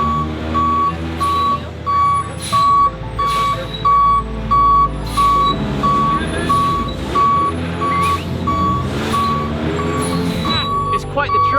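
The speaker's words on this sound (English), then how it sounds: "It's quite the truck." Reversing beeps from a four-axle Northwestern Towing tow truck repeat in a steady rhythm at about one per second, loud and close, over a rumbling idling engine, with people talking throughout.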